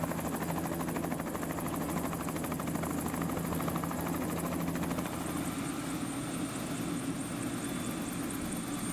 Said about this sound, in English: The helicopter duly arrived and continued to take sightseers on a scenic flight over the canyon.